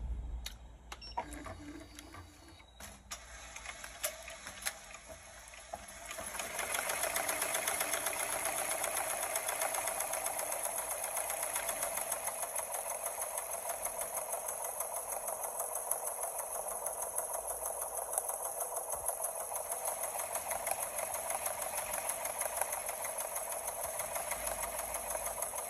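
Embroidery machine stitching a design onto a hooped hat, a steady fast mechanical whirring and rapid needle clatter that starts after a few quiet seconds and runs continuously and loudly to the end.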